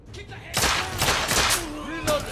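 Rapid bursts of gunfire from The Order 1886, a shooter game, crack out over roughly two seconds, loud and close, with a short pause before a final shot.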